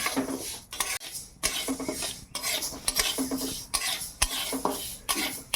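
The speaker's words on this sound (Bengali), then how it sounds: "আগে মুগ ডালটা ভালো করে লাল লাল করে ভেজে নিই" Mung dal dry-roasting in a hot pan over a village stove, stirred with a metal spatula in rhythmic scraping strokes, about six passes with clinks against the pan and a faint sizzle underneath.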